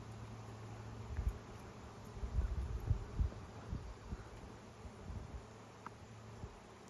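A big swarm of honey bees moving into a homemade swarm trap makes a faint, low, steady hum with scattered soft thumps and rustles close by outdoors.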